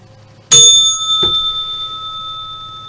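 A bell struck twice in quick succession, the first strike loud and bright, then a long ringing tone that slowly fades, close to the listener, with no talking.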